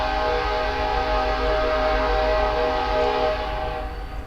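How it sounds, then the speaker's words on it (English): A train sounds a loud, sustained tonal horn chord that holds steady for several seconds over a low rumble, then begins to fade. "Oh, the trains are running."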